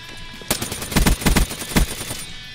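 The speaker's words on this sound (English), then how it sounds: "Look at me shoot right at the guy." Gunfire from Black Ops 3: a sharp opening shot followed by several heavy, rapid bursts of automatic fire with a reverberant tail, loud and close, no voices.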